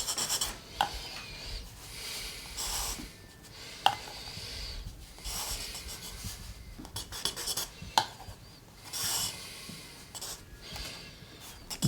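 Pencil or pen scratching and rubbing across paper as an artist draws, irregular close strokes and rasping sweeps with brief sharper taps, quiet and alone without talk.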